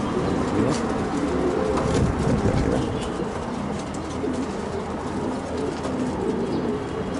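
Pigeons coo in a loft, a dense low warbling chorus of many birds close by, steady throughout with occasional wing flutters and faint chirps.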